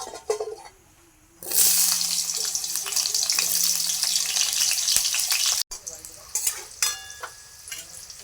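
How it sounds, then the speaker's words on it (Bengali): Potatoes hit hot oil in a pan with a sudden loud sizzle that swells and holds steady, followed by a brief break and then softer crackling with a few clinks. "আলুগুলো প্রথমে ভেজে নেব।"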